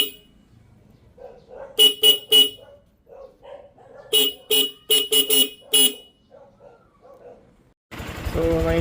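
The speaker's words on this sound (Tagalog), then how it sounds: "So sound check on Denso dual compact horn," A Denso compact dual-tone car horn honks in a quick burst of three, then again in a rapid series of five loud blasts, with quiet gaps between.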